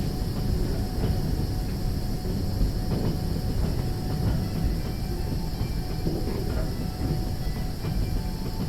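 A train in the video game Trans-Siberian Railway Simulator runs under service braking, giving a continuous loud low rumble with steady hiss and faint clanks throughout.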